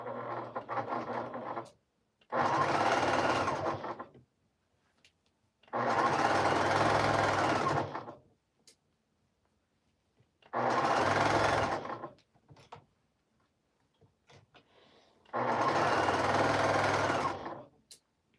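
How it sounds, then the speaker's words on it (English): A sewing machine stitches quilt pieces in four loud, close bursts of rapid whirring, each lasting a couple of seconds and separated by quiet pauses. "I'm going to sew a couple of these so you can see what they look like."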